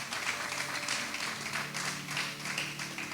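A church congregation applauds during a Spanish-language service. The clapping is steady and fills the room, with a faint murmur of voices underneath.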